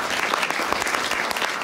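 An audience clapping at a Christmas carol concert in a hall, a dense burst of many hands applauding evenly throughout the short stretch, with no voices over it.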